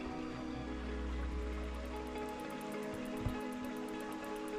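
Prairie Creek runs through a redwood forest with a soft, continuous murmur of flowing water, and a low rumble underneath that fades partway through.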